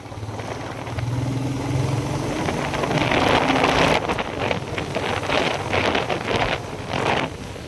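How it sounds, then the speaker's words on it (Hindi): Rain comes down on a narrow mountain road in Uttarakhand amid gusty wind buffeting the microphone, a loud rough roar that swells and ebbs, with a low engine-like hum in the first half. "बारिश फिर से शुरू हो गई है।"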